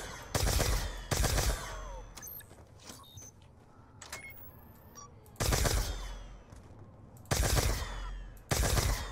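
Pack-a-punched nail gun in Call of Duty Black Ops 2 Zombies, Grief mode, fires loud sharp bursts in several separate volleys, with quieter clanks and game effects between.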